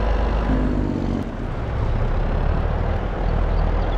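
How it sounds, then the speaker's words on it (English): A truck's engine brake (Jake brake) in a driving video game makes a loud, steady, low mechanical drone that holds throughout, dipping briefly in the middle before resuming. "Ah, yes, the old engine brake, Jake brake sound is back."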